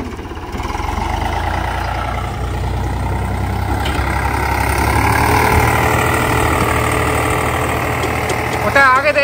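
A tractor engine runs steadily in low gear while towing a broken-down Eicher 242 tractor, with a Sonalika 60 RX and an Eicher 485 involved. The rumble is continuous and fairly loud, and people talk over it.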